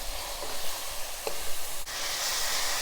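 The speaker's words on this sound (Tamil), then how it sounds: "ஆனியனை நல்லா வதக்கிடலாம்." Onion sautéing in a pan, a steady close sizzle and hiss with a couple of faint clicks of stirring.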